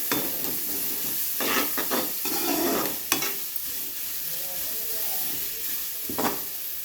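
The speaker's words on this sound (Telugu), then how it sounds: "ఆనియన్స్ అలా వేగాక సన్నగా తురిమి పెట్టుకున్న ఒక కప్ క్యారెట్ వేసుకొని కలుపుకోండి" Finely grated carrot stirred into onions frying in a pan, a continuous close sizzle with several rough scraping stirs of a spatula at intervals.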